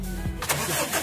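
A Mazda Bongo that had been failing to start cranks briefly and catches, its engine firing up into a close, rough idle within about a second.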